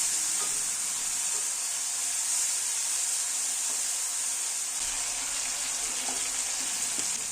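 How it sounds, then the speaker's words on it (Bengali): Tomatoes fry with onions in a pan, giving a continuous bright sizzle with occasional soft stirring scrapes, close and steady throughout. "টমেটো দিয়ে এবারে ভালো করে কষিয়ে নিতে হবে একদম যেন সফট হয়ে যায় টমেটোগুলো"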